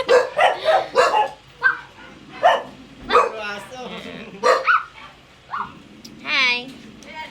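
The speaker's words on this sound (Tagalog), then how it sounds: "Dami aso." Several dogs bark repeatedly in short, loud, overlapping bursts, with a few higher yips and a whine, close by.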